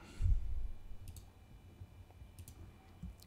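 A computer mouse clicks faintly while working in Illustrator: a few light, sharp clicks spread out across a quiet room-tone background, with a dull low thump at the start.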